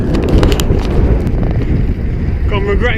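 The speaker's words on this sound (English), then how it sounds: "So bloody windy." Strong wind buffets the microphone while cycling in the Fens, a constant loud low roar of gusts throughout, with someone speaking near the end.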